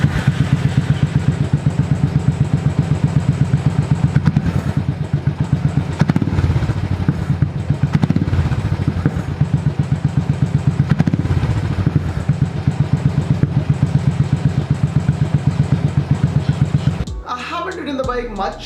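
A motorcycle fitted with a new lightweight aftermarket exhaust idles and revs with a steady, throbbing low-pitched beat that runs loud and continuous for most of the time before cutting off near the end.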